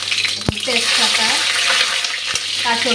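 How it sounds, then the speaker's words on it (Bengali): Bay leaf, green chilli and five-spice hit hot oil in a pan, giving a loud, close crackling sizzle with sharp pops and spits, alongside a low steady hum. "কাঁচা লঙ্কা আর 5 ফোড়নটা দিয়ে দিলাম"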